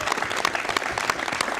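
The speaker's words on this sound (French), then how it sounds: "On va applaudir pour" Applause from an audience at a Belgian television programme schedule launch event, a short steady burst of many hands clapping that fills the whole moment with no voices over it.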